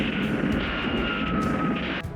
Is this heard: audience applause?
no